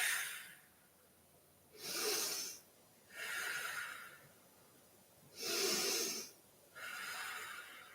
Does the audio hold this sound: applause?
no